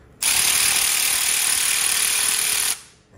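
An older, slower Snap-On 3/8 brushed impact wrench runs in one loud, steady whirring burst of about two and a half seconds, then spins down and stops.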